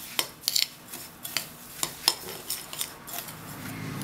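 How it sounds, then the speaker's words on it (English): Artichoke stuffing being mixed with an egg, salt and pepper in a bowl: a series of light, irregular clinks and scrapes from a utensil, close and fairly quiet, with no talking. "Mix that together really well"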